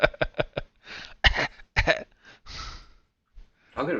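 Several short, sharp coughs in quick succession, close and loud, followed by a throat-clearing rasp and breathy exhalations.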